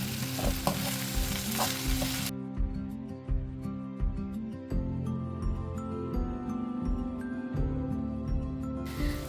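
Spices being sautéed with cauliflower and potato in a pan for aloo gobhi, with a steady sizzle and repeated scraping stir strokes, close and continuous, and no talking.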